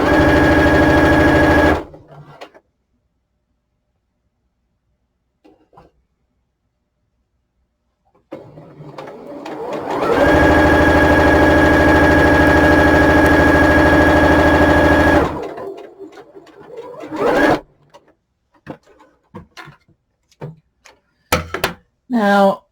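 A sewing machine stitches the lining seams of a knitted toque in two bursts, a short one and then a longer steady whir lasting several seconds, separated by quiet pauses, with clicks and brief talking afterward.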